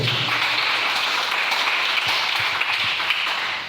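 A church congregation breaks into sustained, lively applause, a dense wash of clapping that holds steady for several seconds with no voices over it.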